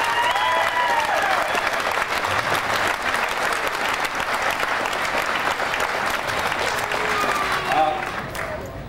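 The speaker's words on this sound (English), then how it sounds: "How about a big round of applause for this guy?" Sustained applause from a large crowd at a 1991 Goodguys hot rod show, steady and loud throughout, with scattered whistles and cheers, tapering off slightly at the end.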